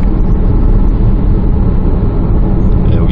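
Honda CR-V engine on a test drive, a steady, loud broadband drone with a low rumble, running continuously without pause or voices.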